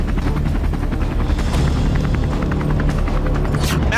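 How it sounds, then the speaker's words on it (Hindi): An Mi-8 helicopter thunders close and loud, its rotor producing a continuous heavy rhythmic chopping with a deep engine rumble throughout. "मैक्सिम कुज़्मिनोव नाम का ये पायलट Mi-8 हेलीकॉप्टर के साथ यूक्रेन पहुंच गया।"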